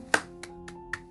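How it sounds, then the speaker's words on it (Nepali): Hands clap four times in a slow, uneven sequence. The first clap is sharp and close, and the three after it are lighter, in an otherwise quiet room. "ताली बजाउनु"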